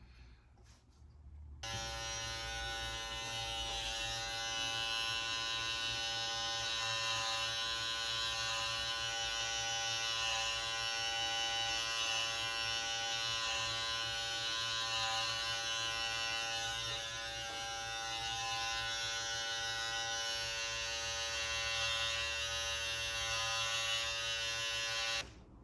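A cordless T-outliner hair trimmer buzzes steadily and close up with a bright, even motor whine, starting after a brief quiet moment and running without pause for the rest of the clip.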